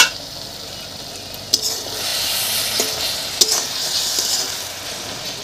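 Dried fish with banana stem and spinach stirring and sizzling in a pan, a steady broadband frying hiss with a couple of sharp utensil knocks against the metal, close and alone without talk.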